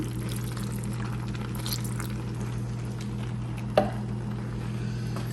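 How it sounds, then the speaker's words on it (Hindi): Water goes into a cooking pan of mushrooms for a chicken masala pasta, making a steady hissing, sizzling wash throughout with one brief clink near the end. "अब इसमें मैं शामिल करूंगी पानी।"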